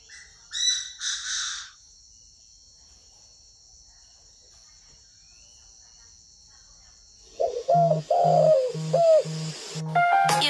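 Spotted dove cooing at a bird farm in Ba Vi, Hanoi, a rhythmic run of clear low coos near the end after a stretch of near silence, with brief earlier calls and a steady insect-like whine.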